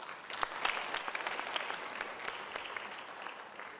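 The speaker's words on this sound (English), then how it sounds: "can we give our out-of-town delegates a big round of applause?" A conference audience at the Sandton Convention Centre claps in a round of applause for delegates, a dense patter of many hands at moderate loudness that fades slightly toward the end.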